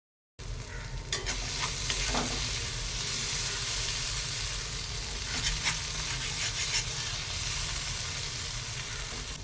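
Potatoes and mochai beans sizzle steadily in a hot pan while a spoon stirs and scrapes through them at close range, with no talking.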